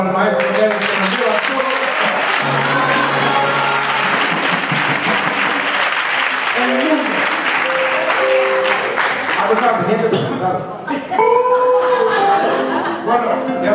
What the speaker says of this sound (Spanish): un fuerte aplauso para el maestro que nos lleva a todos